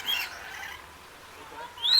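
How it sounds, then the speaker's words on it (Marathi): A parrot at an exotic-animal section of an aqua park gives short, faint high chirps at the start and again more clearly near the end, over a quiet background. "तर पोपट बघा पोपट"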